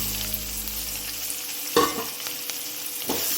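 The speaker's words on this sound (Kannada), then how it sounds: "ಹಾಕೊಂಡು ಚೆನ್ನಾಗಿ ಫ್ರೈ ಮಾಡುವ" Onion frying in a pan for a Kannada sprouted green gram dish: a soft continuous sizzle with a few sharp stirring scrapes and knocks, close and without speech.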